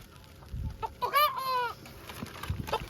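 A chicken clucks and squawks close by in a short, rising burst of calls, with scattered handling noises and background rustle around it outdoors.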